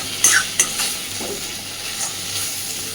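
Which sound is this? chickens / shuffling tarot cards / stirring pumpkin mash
stirring pumpkin mash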